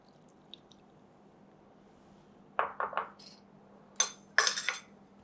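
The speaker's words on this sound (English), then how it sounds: "I'm going to pour this into the batter." Soft wet splashes and a few clinks as a coffee-powder mixture is poured into chocolate oil cake batter in a bowl, in short bursts with quiet gaps between.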